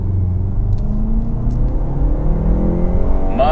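A Jaguar E-PACE P250 AWD pulls away hard from a brake-torque launch, its engine a loud, close, rising drone that climbs steadily in pitch through the gear, with no talk over it.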